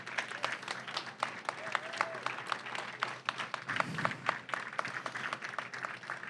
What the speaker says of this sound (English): give every courageous member of this department a rousing round of applause